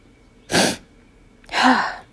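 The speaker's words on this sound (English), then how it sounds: "thought I was going to sneeze again, so I had to wait a second" Two sharp sneezes, one after another with a short pause between, close and fairly loud against a quiet background.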